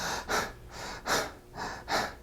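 A voice imitates heavy breathing after climbing stairs, four loud, close, breathy pants in a steady alternating in-and-out rhythm.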